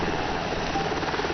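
A helicopter in the ARMA 2 video game makes a steady, dense rotor and engine drone, loud and unbroken for the whole brief moment with no other sounds.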